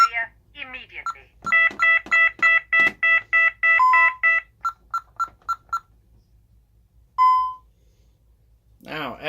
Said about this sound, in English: this thing was producing a temporal 4 beep.